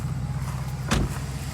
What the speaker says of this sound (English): The engine sounds really good.